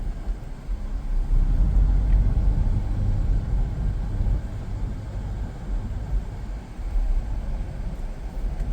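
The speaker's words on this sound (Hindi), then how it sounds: "अब आप देख सकते हैं मैं जैप मोड पे चला रहा हूँ इसे" A Mahindra Scorpio-N SUV drives in Zap mode, a steady low cabin rumble of engine and road noise that swells and eases gently, continuous with no talk.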